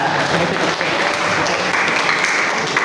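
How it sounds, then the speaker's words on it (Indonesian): Continuous audience applause during a school orientation session with alumni, many hands clapping in a loud, even, crowded roar that holds steady to the end. "tepuk tangan dulu dong buat Kak Renata"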